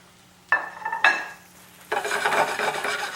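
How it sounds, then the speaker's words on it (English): Portobello mushrooms dropped into hot oil in a pan, two clattering thuds of food and utensil followed by a steady, broad sizzle of searing that continues close and moderately loud. "I'm putting the portobello mushroom, and I just add it in the same fat, in the same oil. And then sear them up nicely"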